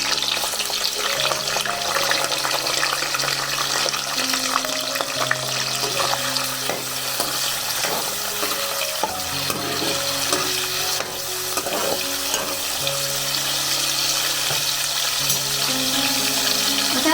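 Cleaned, deveined prawns frying in a pan for a spicy Malvani prawn curry, a loud continuous sizzle and crackle with occasional utensil clinks, close up and unbroken throughout.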